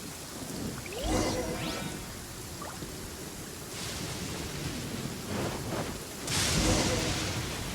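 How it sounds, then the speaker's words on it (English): A thunderstorm in the video game Genshin Impact brings a constant hiss of rain. Rumbling, whooshing thunder bursts swell up several times over the rain, and faint talking can be heard underneath. "Uh-oh! Lightning storm!"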